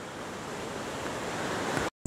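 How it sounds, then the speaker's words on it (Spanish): A waterfall beside a house in the Poconos, Pennsylvania, rushes as a steady broadband roar, loud and close, cutting off abruptly near the end. "Y con su cascada al lado."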